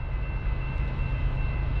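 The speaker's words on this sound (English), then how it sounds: "Second train of the day." A Norfolk Southern freight train rolls past nearby on a cold morning, a steady low rumble of wheels and cars with a faint thin tone above it, no voices.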